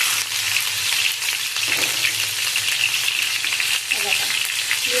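Chili and cumin fry in hot oil for a tempering, giving a loud, close, continuous crackling sizzle with spitting pops throughout, no talking.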